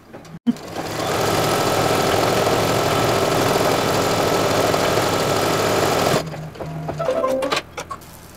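An embroidery machine stitching a zigzag on a scarecrow design runs in a loud, fast, steady mechanical whir for several seconds, then stops, leaving a few light clicks and handling sounds.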